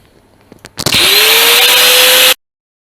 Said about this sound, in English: I'll get the big grinder out.